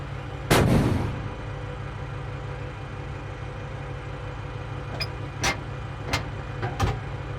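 A tank fires a missile in the video game Flashpoint Campaigns: one loud, sharp blast followed by a rumbling tail over a steady engine drone, with several fainter distant reports.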